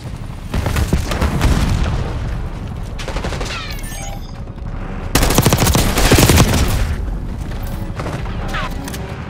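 Semtex grenade blasts and gunfire in the Call of Duty Black Ops 6 shooter game: loud bursts of rapid fire and booms in two intense waves, with brief game voice chatter in between.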